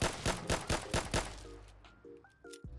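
Pistol fire in Fallout 4 aimed at a Deathclaw: a rapid string of about six sharp shots, then quieter clicks and mechanical tones as the magazine runs dry, with no voices.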